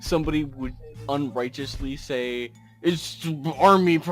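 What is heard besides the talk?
No everyday noise stands out behind the speech.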